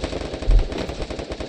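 Video game gunfire rattles off as one short, loud burst of shots, close and punchy.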